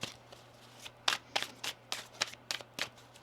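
A deck of tarot cards shuffled close by, a run of crisp riffling bursts arriving in a loose, uneven rhythm with brief gaps between them, no voices.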